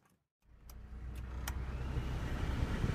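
A 1990 Toyota Land Cruiser PZJ70 idles with its rebuilt air conditioning running on a new compressor. The engine catches after a brief silence and settles into a steady, close, low rumbling idle, with a few light clicks near the start.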